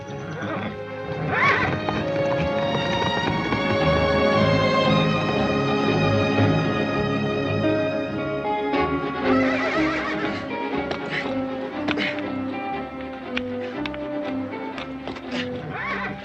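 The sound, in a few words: horse neighing and hooves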